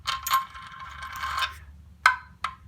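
An angle wrench torquing cylinder head bolts, close ratcheting clicks in a quick burst followed by a few sharp separate clicks, with a low hum underneath.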